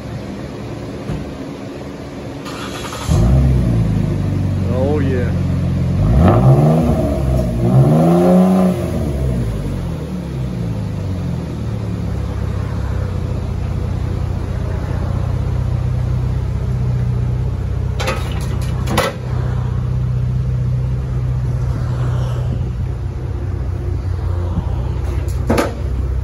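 A Ford Explorer EcoBoost with its muffler deleted fires up loudly, then gives a few sharp revs that rise and fall before it settles into a steady, rumbling idle. Someone speaks briefly.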